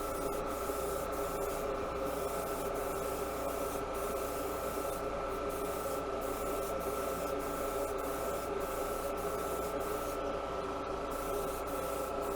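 A paint spray nozzle hisses steadily while spraying white paint on a Buick, heard close with a constant airy rush and several brief interruptions, and no talking.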